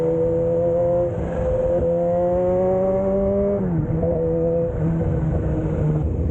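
Exhaust note of a Kawasaki ZH2 motorcycle, a deep rumbling tone that holds steady, then rises and falls through several revs, close and loud with no talk over it.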